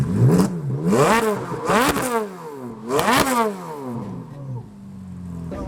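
A Ferrari F430 Challenge engine revs hard in a series of loud, rising and falling bursts, several sharp throttle blips in a row at close range, with no talking over them.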